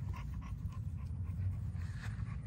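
A dog pants close by, quick rhythmic breaths running steadily throughout, outdoors with faint background noise and no talk.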